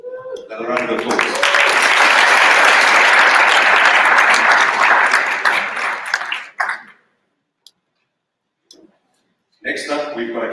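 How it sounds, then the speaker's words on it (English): Conference audience applauding loudly and steadily for about six seconds, then falling away to near silence before a voice starts speaking near the end. "Another round of applause."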